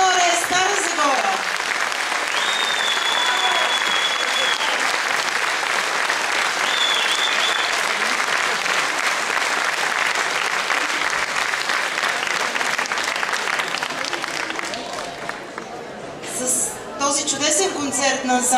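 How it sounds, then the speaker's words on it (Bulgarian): A large audience applauds after a concert by the professional folk ensemble Zagore from Stara Zagora during a national folklore festival evening. Sustained, dense clapping holds loud for most of the stretch, then thins briefly before picking up again near the end. "И още веднъж вашите аплодисменти за артистите, ръководителите на ансамбъл Загоре, Стара Загора."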